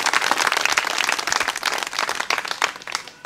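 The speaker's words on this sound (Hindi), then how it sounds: "आप लोगों की तालियों की गड़गड़ाहट" An audience at a gathering bursts into dense, sustained applause, many hands clapping together in a loud, continuous crackle that stays steady throughout with no voices.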